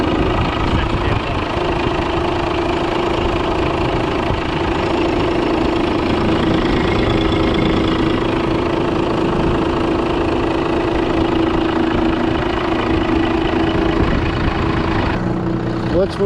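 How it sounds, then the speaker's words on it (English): An old truck engine idles too low, around 600 rpm, with a steady loud rumbling drone and a slightly uneven knocking pulse that holds throughout. "The idle set too low. You look at it, it's at 600, it should be like at 900."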